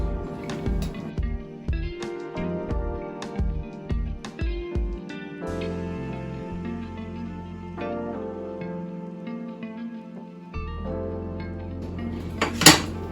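Plates and cutlery clink and clatter in a home kitchen as beans and rice are served onto a plate, a run of close, sharp knocks and scrapes with a quieter pause before a final bright clang.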